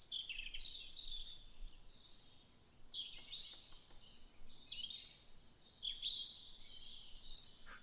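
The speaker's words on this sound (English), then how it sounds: "I also hear a lot of birds" Birds in a video game world chirp and twitter faintly in the distance, a steady scatter of high, quick calls over a quiet background with no voices.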